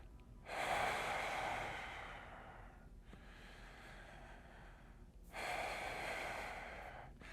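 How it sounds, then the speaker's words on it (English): Slow, deep breaths drawn in and pushed out close to the microphone while lying on a double lacrosse ball for a neck and upper back stretch, with two long exhales separated by a quieter pause. "I'm doing 5 breaths."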